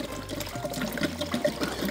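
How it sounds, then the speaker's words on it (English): Household vinegar being poured into a container, heard as a steady, close splashing and gurgling stream of liquid for about two seconds with no voices. "And I'm gonna pour maybe about 3 gallons in here"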